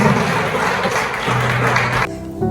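Dense applause from a church congregation during a sermon, a steady loud wash of many hands clapping that cuts off abruptly near the end, with a little speech mixed in.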